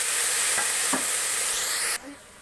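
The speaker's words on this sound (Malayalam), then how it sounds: "ഉള്ളി ഒന്ന് ചെറുതായി വാടി വന്നിട്ടുണ്ട് അപ്പോൾ ഇനി നമുക്ക് മുറിച്ച് വെച്ച തക്കാളിയും ഉരുളക്കിഴങ്ങും കുതിർത്ത് വെച്ച കടലയും ചേർത്ത് കൊടുക്കാം" Tomato, potato and soaked chickpeas tipped into softened frying onions in a pan, then stirred, giving a steady close sizzle with a few scraping stir strokes before the frying noise suddenly drops off near the end.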